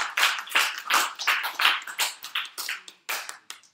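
A small audience of high school students at a lecture claps in a loose, uneven burst of sharp individual claps that thin out and trail off over a few seconds.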